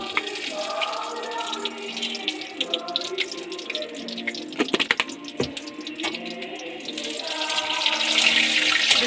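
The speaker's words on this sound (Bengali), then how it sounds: "তেলের উপরে আমি দেব শুকনো লঙ্কা, তেজপাতা" Dry red chillies, bay leaves and cumin fry in hot oil in a heated kadai, giving a watery sizzle with scattered pops and crackles. The sizzle swells louder toward the end, and a voice is heard over it.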